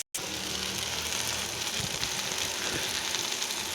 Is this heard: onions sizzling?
yes